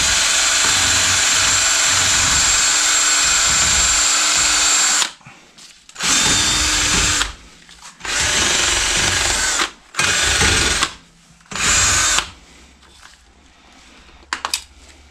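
A power drill bit runs in a long continuous burst of about five seconds, then four shorter whirring bursts with pauses between them, loud and close with no talking.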